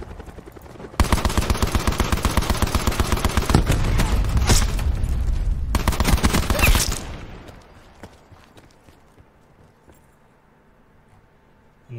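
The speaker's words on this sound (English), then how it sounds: "I heard shots over here behind me." Rapid bursts of automatic gunfire from behind the player in Call of Duty Blackout, a loud sustained volley of evenly spaced shots for several seconds that cuts off abruptly, leaving quiet ambient background.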